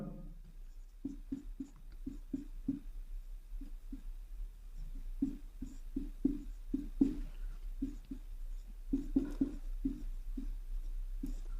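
Pen or marker strokes writing out a maths solution for real numbers, HCF and LCM, in short scratchy bursts with pauses between groups of strokes, close and fairly quiet, alone without talking.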